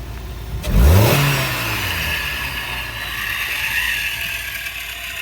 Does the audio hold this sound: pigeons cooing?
no